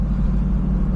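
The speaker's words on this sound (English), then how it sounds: "Setting off in the MR2 is not particularly quick. You do have to shift very often since the gears are very short." A 2001 Toyota MR2 Spyder's engine drones with a steady, low rumble from inside the cabin as it pulls away, loud and continuous with no talking.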